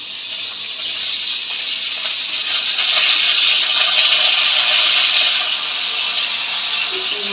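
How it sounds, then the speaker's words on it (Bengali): Bitter gourd slices sizzle in hot mustard oil in a pan, a loud, steady hissing crackle that holds throughout with no talking. "এই তেলের মধ্যে আরেকটু সরষের তেল দিলাম, দিয়ে আমি উচ্ছেগুলোকে ছেড়ে দেবো। উচ্ছেগুলোকে একটু লাল করে ভেজে নেব।"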